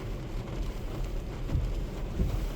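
Heavy rain falls on a car at a drift circuit in Osaka, heard from inside the vehicle as a steady, muffled, low rumble of rain on the body.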